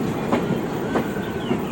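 The 12915 Sabarmati–Old Delhi Ashram superfast express train running, a steady loud rumble with rhythmic clickety-clack of wheels over rail joints, heard close up with no talk.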